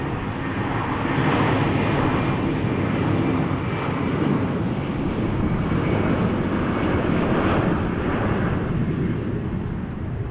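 An ATR turboprop airplane roars steadily through a takeoff, a loud, broad engine rumble with a whining drone that holds for the whole stretch.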